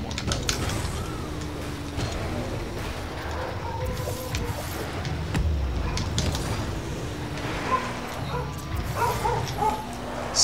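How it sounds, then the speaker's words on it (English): Dogs bark and yip intermittently in the background over a steady, busy noise bed of Rocket League gameplay, with some faint whines mixed in. "Excuse the dogs barking."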